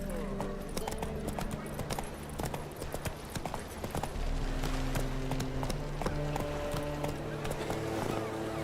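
Roach the horse trotting in The Witcher 3, with steady rhythmic clip-clop hoofbeats close by under game music and someone speaking.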